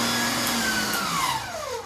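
An electric Cabela's meat grinder runs while grinding meat, a loud steady motor whine whose pitch slowly drops over a brief stretch, heard up close.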